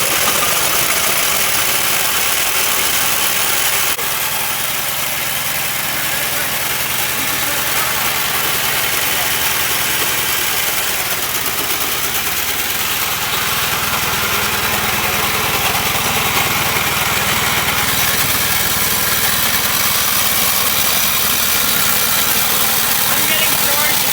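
A Honda HT3813 racing lawn mower engine starts and runs at a loud, steady idle up close, its rough drone filling the whole stretch with a slight shift in tone partway through.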